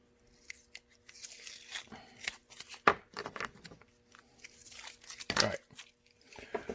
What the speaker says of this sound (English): So I'll go ahead and clean the tape off.